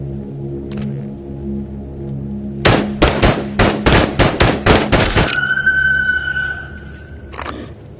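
Rapid gunfire empties a magazine in the video game Into the Radius, a loud fast string of about a dozen shots followed by a ringing metallic tail and one last report.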